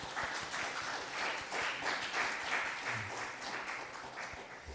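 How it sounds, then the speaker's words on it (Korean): A church congregation claps together during a Sunday service, a moderate, even round of applause with individual claps audible, faint murmurs underneath. "그분들 또 잘 다녀오시도록 박수 한번 드리겠습니다"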